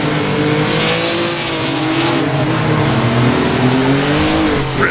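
Maserati 250F engine in a sim racing game, loud and revving with rising and falling pitch as the car slides wide, with a continuous hiss of tire noise throughout and no talking.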